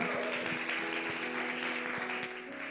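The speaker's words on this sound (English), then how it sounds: "Another big round of applause for our dear Maya" A church congregation claps steadily through a Sunday service, a sustained wash of applause filling the room with a faint tonal hum beneath it and no clear speech.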